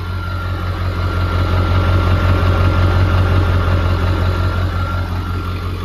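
A Ford F-250 with a 7.3 diesel, straight-piped and on a light tune, idles steadily nearby with a deep, even rumble and no break or voices.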